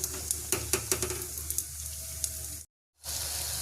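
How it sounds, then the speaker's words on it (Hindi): Cashews fry in ghee in a thin kadai, a soft steady sizzle broken by several sharp clicks and scrapes of stirring, then a brief full silence before the frying resumes. "अब ये बहुत पतली कढ़ाई है और उसको आपको बहुत ध्यान से काजू को अलग ही तलना है"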